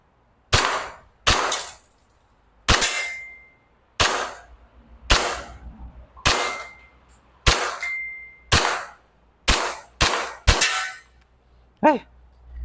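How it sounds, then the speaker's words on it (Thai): E&C Glock 19X airsoft pistol firing at paper targets ten metres away: about a dozen sharp, snappy shots in an uneven rhythm, some fired in quick pairs, close and loud, with a faint ringing ping near the end. "มาทดสอบยิงนะครับเป้า10เซนและ20เซนนะครับ ระยะ10เมตรนะครับ"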